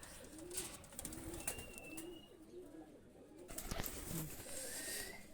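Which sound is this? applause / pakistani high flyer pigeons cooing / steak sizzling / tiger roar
pakistani high flyer pigeons cooing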